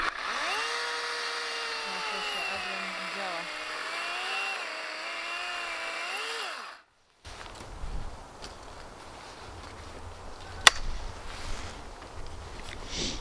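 A chainsaw runs steadily in a vegetable garden, its engine note wavering as it cuts, then it cuts off abruptly and quiet outdoor background follows with a sharp knock.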